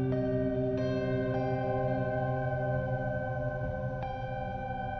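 A dark, dissonant electric guitar patch with heavy distortion and pitch shifting rings out in long sustained tones, with a few fresh notes struck over a thick, echoing wash and no talking.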